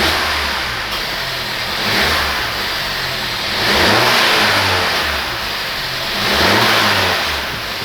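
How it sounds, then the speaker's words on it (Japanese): A Suzuki Swift Sport (ZC33S) exhaust roars as the engine is revved repeatedly, rising and falling in loud swells over a rumbling idle. "マフラーの音はこんな感じです。"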